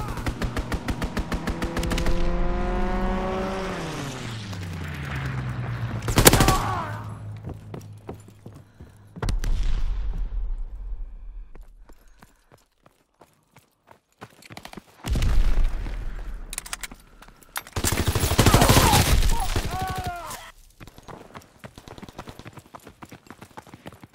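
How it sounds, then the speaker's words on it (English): Strafing gunfire from an inbound fighter pilot in the Call of Duty WWII video game, loud bursts and booms in a busy mix with short pauses between rapid volleys. "Fighter pilot inbound, strafing the target."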